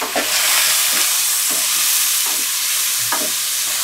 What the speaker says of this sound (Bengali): আলুটা দিয়ে হালকা করে এটাকে একটু ভেজে নেব